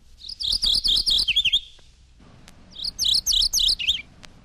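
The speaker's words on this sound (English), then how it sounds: "Page 206, Morning Warbler." Mourning Warbler song from eastern North America: two clear, near phrases of repeated slurred notes ending in a lower, quicker flourish, with a short gap between them and nothing else heard.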